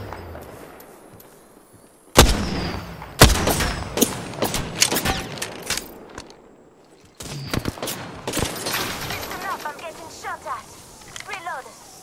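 Gunfire in the battle royale game Apex Legends, with sharp volleys and scattered shots in irregular bursts, fairly loud, while a voice talks over the fighting.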